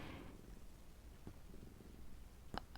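A pet cat kneading gives a soft, steady purr, faint and close, with a small click near the end and no talk.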